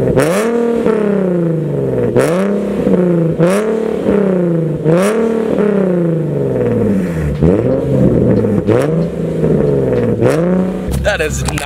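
A Tomei-equipped Nissan 370Z on a two-step rolling launch revs hard and repeatedly, aiming to shoot flames; the crazy-loud engine surges up and drops back about every second, with crackles between the pulls.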